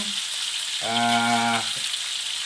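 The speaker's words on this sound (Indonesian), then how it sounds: "berarti ini digoreng" Beef for tongseng fries in a pan with a dense, continuous sizzle that lasts throughout, and a short voiced hum sounds over it partway through.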